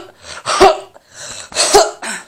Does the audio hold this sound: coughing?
yes